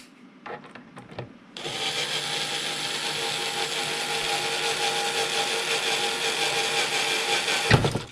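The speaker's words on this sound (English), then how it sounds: "let me just drill into it to make sure" A power drill boring into a Tippmann A5 box magazine: a few light handling clicks, then a steady, fairly loud whirring drone for several seconds that stops abruptly with a thump.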